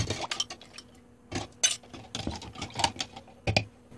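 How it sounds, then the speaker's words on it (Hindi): Ice cubes drop into a glass of lemon water one after another, giving several close, sharp clinks and clatters spread across a few seconds. "आइस क्यूब डालेंगे।"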